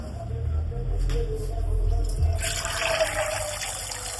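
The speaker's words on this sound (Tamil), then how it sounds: "இது பாத்தீங்கன்னா தண்ணியில நல்லா அலசிக்கலாம்" Mudakathan keerai greens being rinsed in water, with sloshing and trickling close by that grows into a brighter splashing pour in the latter half, fairly loud.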